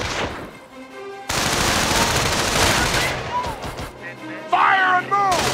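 Gunfire in Company of Heroes during an Allied causeway mission: loud sustained bursts of rapid shots crowd the scene, with shouted voices breaking through between and over the firing.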